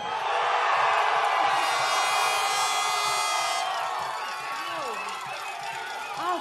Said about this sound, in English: Wow, this crowd right here is amazing.